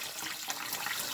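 Tap water runs into a pot of peas being rinsed until it overflows. The flow makes a soft, steady splashing hiss at low volume.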